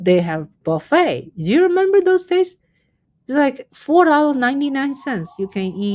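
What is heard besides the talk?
No everyday noise stands out behind the speech.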